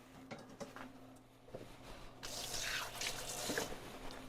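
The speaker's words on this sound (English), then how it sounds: "I'm going to rinse off my hands" Running sink water pours steadily while hands are rinsed, a broad hiss rising and continuing to the end after a few small clinks and drips, close and moderately loud.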